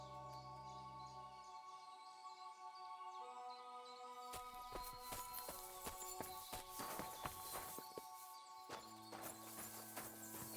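A horse walks with a steady clip-clop of hooves in the video game Kingdom Come: Deliverance II, quiet and close, over soft ambient music and the occasional bird call.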